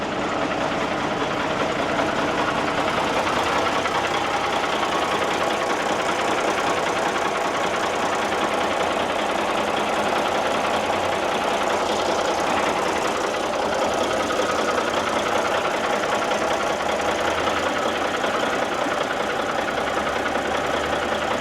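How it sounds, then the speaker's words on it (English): A 1989 Marmon truck's diesel engine runs steadily for the whole stretch, a loud, constant rumble with a fine, even clatter and no voices over it. "Diesel engine runs real good."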